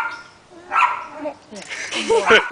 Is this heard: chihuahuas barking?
yes